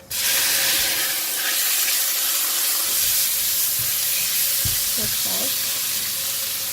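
Prawns sizzling in a hot pan of stir-fried lotus root, a loud steady hiss of frying throughout with a few clinks and stirring sounds and a brief voice near the end.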